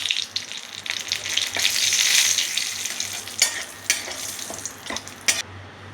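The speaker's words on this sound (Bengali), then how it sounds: "দেখুন, একটা তেজপাতা ফোড়ন দিলাম।" A single bay leaf dropped into hot oil for tempering sizzles steadily, with a swelling hiss, light stirring and a few sharp utensil clicks against the pan, close and fairly loud, no voices.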